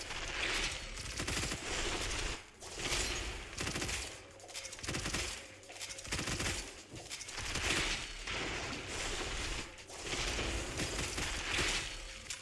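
Rapid gunfire in the video game Gunfire Reborn, with near-continuous bursts of automatic shots and mechanical clicks firing loudly in several long volleys separated by brief gaps.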